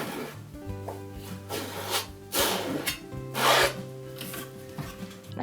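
A paint scraper drags across a canvas during the painting of a realistic cat, making repeated rough rasping, rubbing strokes with pauses between passes, close and alone.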